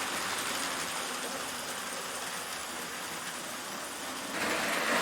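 A TYCO model train rolling steadily along its track, a continuous whirring rumble from the small motor and wheels that holds even throughout and swells slightly louder near the end.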